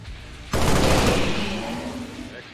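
Gunfire erupts abruptly in XCOM 2: War of the Chosen with the Long War 2 mod, a loud sustained burst of shots that rings out and slowly decays over a couple of seconds, with no talking.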